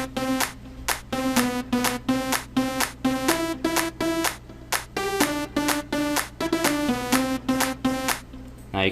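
House music melody played on an Insomnia synth from the Nexus plugin in FL Studio, a bright stack of repeated chopped chords in a steady pulsing rhythm over a low sustained bass drone, loud and alone.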